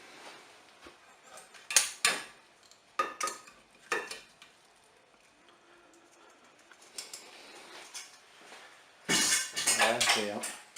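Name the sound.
putting potatoes into an oven dish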